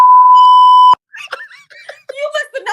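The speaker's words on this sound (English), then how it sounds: "You must have known what I was getting ready to say, because beep beep beep beep beep." A single long, loud censor beep, a steady pure tone lasting about a second, cut off abruptly, followed by someone talking and laughing.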